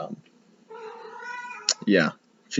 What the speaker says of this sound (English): My cat is in heat right now